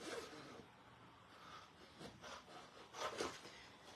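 Scissors or a blade cutting into paper friendship quote cards, heard as faint, close rasping and rubbing strokes in short uneven bursts.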